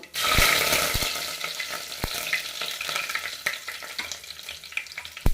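Green chillies and curry leaves hit hot oil for vegetable sambar, a loud sizzling burst that settles into steady frying, punctuated by several sharp spoon clicks and stirring sounds against the pan.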